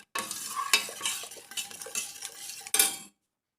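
Homemade tomato sauce with lemon juice and sugar being stirred in a pan, a few seconds of close clinking and scraping spoon strokes against metal that end abruptly in silence.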